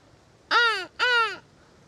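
Two loud, harsh crow caws close by, each about a third of a second long with a short gap between them, heard alone with no talking. The setting is Rabbit Island near Hiroshima, Japan.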